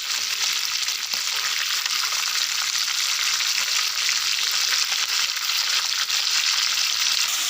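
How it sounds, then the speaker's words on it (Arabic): Tuna fish fries in a pan with a loud, continuous close sizzle that holds steady throughout, with faint stirring and handling noises beneath the hiss and no talking. "اي حبايبي السمك احمر اهوت، نقلبه بقى الناحية التانية"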